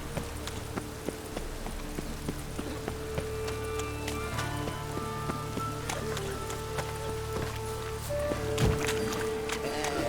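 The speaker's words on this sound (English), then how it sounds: "It's raining again." Rainfall in The Witcher 3 game world patters steadily beneath horse hoof clip-clops, scattered game effects and tonal sounds, with a voice speaking briefly over it.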